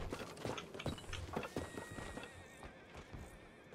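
A horse in the RedM video game whinnies after being called, with clip-clop hooves. The neigh is a single wavering call, and the hoofbeats thud under it, close and fairly quiet.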